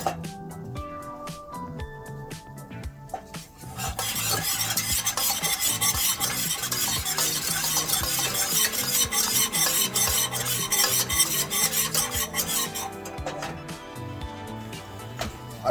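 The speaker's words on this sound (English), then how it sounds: "I switched to a wooden spoon. It's easier for me to stir and get the corners." A wooden spoon stirs a darkening, caramel-colored jambalaya roux in a pot, rhythmic rasping scrapes against the bottom and corners over a constant sizzle, close and loud after a brief quieter start, with no voices.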